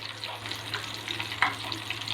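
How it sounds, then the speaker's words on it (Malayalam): A large net-caught pearl spot fish fries in hot oil in a heated pan, giving a soft continuous sizzle with scattered pops and crackles of splattering oil over a low steady hum. "നമ്മൾ ചൂടായ പാത്രത്തിലോട്ട് മീനിടുമ്പോൾ ഇച്ചിരി എണ്ണ തെറിക്കത്തില്ലേ"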